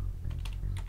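Quick, close keystrokes on a computer keyboard as a console command is typed in Garry's Mod, a brisk run of several clicks over a low background hum.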